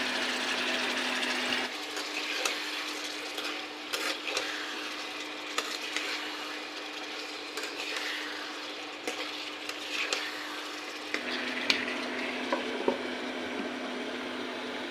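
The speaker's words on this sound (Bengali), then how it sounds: "মশলার মধ্যে সবজিটা আগে দিয়ে দিই" Radish, eggplant, tomato and potato get stirred into spice paste in a pan, giving a soft, continuous sizzle with scraping stir strokes, fairly quiet and without speech.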